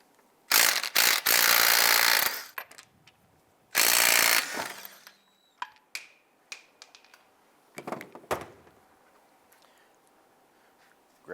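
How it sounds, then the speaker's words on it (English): A ratchet with a 22mm socket works loose the wheel lug nuts on a 2011-2017 Honda Odyssey. Two long loud bursts of impact-like rattling come first, then scattered close clicks and metallic clinks. "let's loosen and remove our lug nuts"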